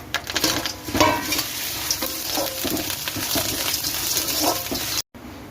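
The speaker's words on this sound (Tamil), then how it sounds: "நல்லா மிக்ஸ் பண்ணிக்கலாம்" A spoon stirs chillies and curry leaves around a hot pan, giving steady scraping and sizzling that runs continuously, close and fairly loud, and then cuts out abruptly near the end.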